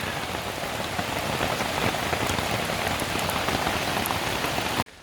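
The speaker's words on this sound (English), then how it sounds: "it's pretty safe to say it's raining" Steady, heavy rain pattering on a camping tent, a dense continuous hiss with scattered drops, close by and unbroken until it cuts off abruptly at the end.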